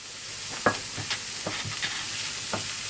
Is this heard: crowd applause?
no